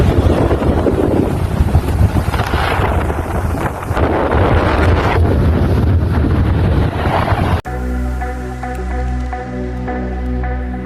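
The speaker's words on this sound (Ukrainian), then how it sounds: "Сьогодні дуже вітряно, сонячно, трохи прохолодно" Strong wind buffets the microphone in a constant heavy roar on a sunny, cool outdoor tennis court in Kaunas, then gives way abruptly to a steady low engine-like hum.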